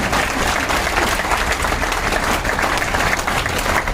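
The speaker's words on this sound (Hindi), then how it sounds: "एक बार जोरदार ताली बजा दी जाए" Large crowd at an outdoor gathering of village councils and farmers in Haryana breaks into sustained, dense applause, loud and continuous for the full stretch with a low rumble underneath.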